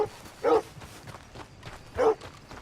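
In the Red Dead Redemption II video game, a speedy dog runs past with two short, sharp barks about a second and a half apart, over soft clopping footfalls at a moderate distance.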